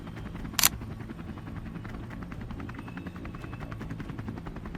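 Rhythmic thudding of helicopter rotors close by at an embassy during the 1975 Vietnam War evacuation, with a steady engine drone and a brief sharp hiss near the start.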